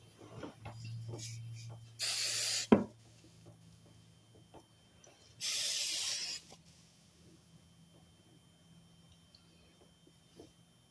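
Aerosol hair spray is sprayed onto freshly self-cut hair in two separate bursts of about a second each, close and hissing, with faint handling clicks and rustles around them.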